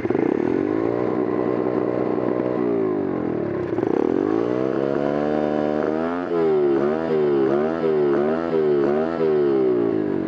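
A Yamaha XT motorcycle engine sputters and surges unevenly, as if running out of fuel, its pitch dipping and recovering in a steady wavering pattern, loud and close with no talk.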